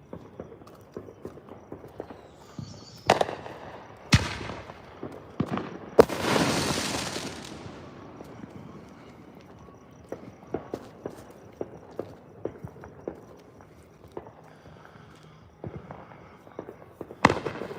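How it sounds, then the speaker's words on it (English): Fourth of July fireworks going off outdoors: scattered sharp cracks and bangs, with one louder burst that rumbles and fades, spread unevenly over time. "We'll get back to the fireworks here for a few more minutes."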